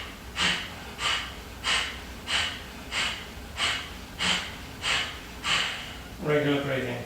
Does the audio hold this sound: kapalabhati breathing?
yes